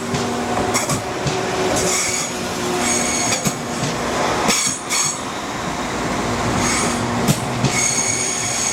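A train departs Leeds station with a steady rolling rumble, squealing wheels and occasional clickety-clack over the rails, loud and close throughout.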